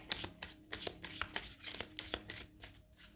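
Oracle love cards being shuffled and dealt by hand, a series of quick papery riffles and slaps in an uneven rhythm, close and fairly quiet with no talking.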